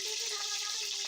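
Hot oil sizzling as an egg fries, a steady bright hiss close by that lasts only a moment, with no talking over it.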